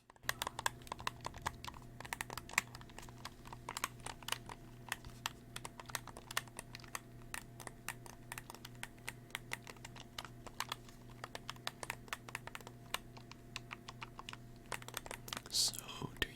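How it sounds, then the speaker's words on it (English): Clicky keyboard keys typed in quick, irregular bursts throughout, close and crisp, with a low steady hum beneath and faint soft speech in places. "I just like that sound, like keys, buttons that are really clicky"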